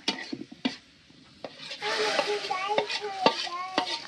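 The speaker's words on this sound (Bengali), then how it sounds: "ডাল রান্না করতেছে অনেকদিন পর" Dal (lentils) simmering in a pot with a soft sizzle, stirred by a spoon in a few separate scrapes and strokes, close by in a home kitchen, with no talk.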